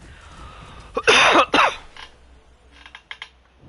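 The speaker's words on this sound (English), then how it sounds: "my cough is just annoying me" Two harsh, loud coughs close to the microphone follow each other quickly, then a few faint keyboard-like clicks sound in an otherwise quiet room.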